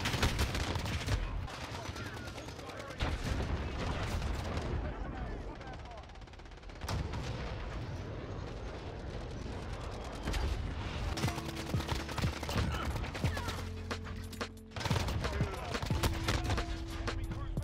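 A first-person shooter match fills with rapid gunfire, a pistol going up against an AN-94 rifle, in dense bursts and quick successive shots, loud and near with short gaps between volleys.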